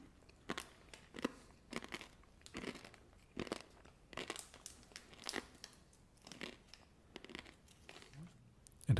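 Someone bites and chews hard-shelled Cadbury Gems chocolate candies up close, giving a quiet series of sharp crunches in an irregular rhythm with no talk.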